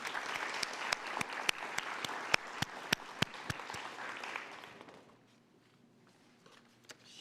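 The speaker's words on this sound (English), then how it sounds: "Let's give her a round of applause." A school district audience claps for Addie, a round of applause with sharp individual claps standing out over a lighter patter that fades to near quiet by the end.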